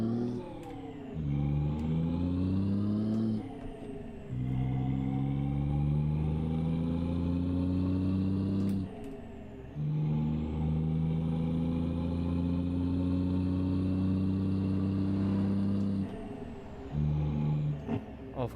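A truck engine revs hard in long sustained pulls on a late-night drive, with brief drops between surges as gears are shifted, loud and close, with a sharp hiss at one point.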